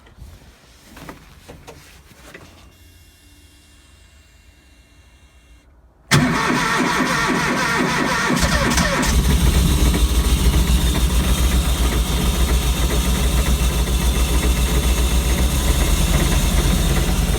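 A mini snow cat with an EFI engine cranks and fires on a cold morning, then settles into a steady, loud idle that runs on without a break.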